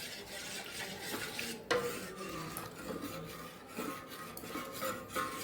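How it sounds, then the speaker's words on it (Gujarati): Cold cocoa milk is stirred in a pan with a steady scraping, rubbing motion against the metal, close and fairly quiet, with one sharper knock partway through and no talking. "હવે આપણે આને સતત હલાવતા રહેશું।"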